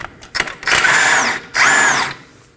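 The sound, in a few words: power tool removing a stabilizer end link nut with 17mm socket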